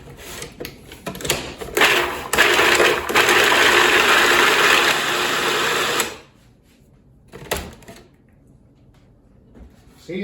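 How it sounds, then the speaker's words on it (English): A blender whizzes spices, onion, garlic and herbs in a steady, loud mechanical whir for about four seconds, then cuts off, leaving a few clicks and knocks of the machine and jar. "We got our spices, our onion, our garlic, our herbs. Let's give this a whiz."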